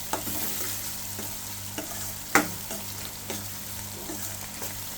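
Onions frying in oil in a pan for a tomato meal maker curry, a continuous close sizzle with repeated soft scrapes and one sharp clack as they are stirred, no voices.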